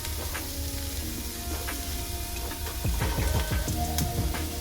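Onions sautéing in a pan for chilli chicken give a steady close sizzle, with scattered crackles and pops that grow busier and louder in the second half and no talking.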